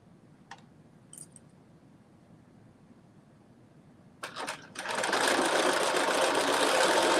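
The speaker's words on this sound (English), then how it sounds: "All right, so I'm sewing up the sides of my bando." Sewing machine stitching up the sides of a maxi dress bandeau, starting with a few clicks before a loud, steady motor hum takes over and runs continuously to the end, close up with no talk.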